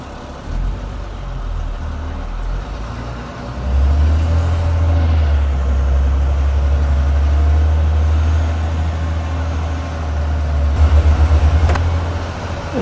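A skoolie bus rumbles through narrow streets in Sicily, its engine a loud, steady low drone that swells as it pulls away and stays close throughout.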